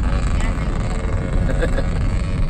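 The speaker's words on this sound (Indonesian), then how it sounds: "Itu motor kencang itu ya." A fast Vespa motorbike racing at Sentul, its engine roaring steadily and close with gusty wind noise over the microphone.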